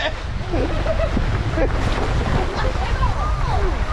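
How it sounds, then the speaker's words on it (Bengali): Strong wind at Sulaipat dam in Odisha roars against the microphone in a dense, continuous gusting blast while people talk faintly underneath. "এত হাওয়া দিচ্ছে, এখানে পোল উড়ে যাচ্ছে।"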